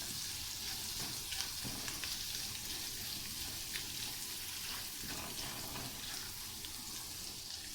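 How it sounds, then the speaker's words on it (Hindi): Garlic-ginger paste sizzles and fries steadily in a hot pan for potato chillies, a continuous loud crackle with small spits and pops throughout and no talking. "हल्का सा हम इसे फ्राई करेंगे बस, थोड़ा सा लहसुन अदरक का पेस्ट"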